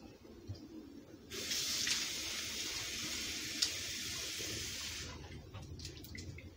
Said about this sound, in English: Make sure you rinse everything, clean everything, wash everything.